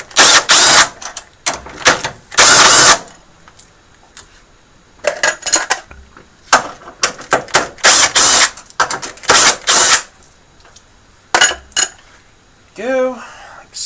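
A ratchet wrench works 12 mm bolts loose on a Talon, making bursts of loud, close metallic clicking and clanking separated by short pauses.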